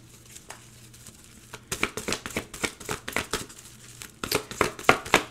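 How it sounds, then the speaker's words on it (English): Tarot cards are drawn and shuffled from a deck in a series of crisp, close slaps, flicks and crinkles, quiet at first and then quicker and louder in bursts. "let me pull some more cards"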